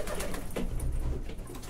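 Pigeons cooing in a pigeon loft on a frosty morning, close, throaty overlapping coos filling a short moment.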